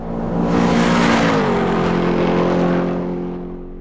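An Olympias C1 rally car driven in the racing game Assetto Corsa, its engine note climbing steadily in pitch as it accelerates, loud and close, fading slightly at the end with no voices.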